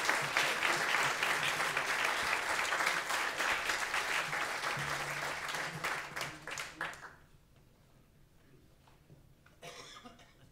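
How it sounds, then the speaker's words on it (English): Audience applause at an evening cabaret music show, honoring the arranger: dense, loud clapping fills the room for about seven seconds, then tapers off into quiet room tone with a few scattered claps and a cough. "keep that applause going for James"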